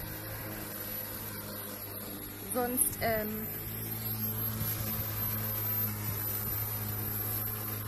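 A lawn mower cuts open ground behind a house in late July, a steady engine drone in the background under a brief spoken word and some nearby rustling.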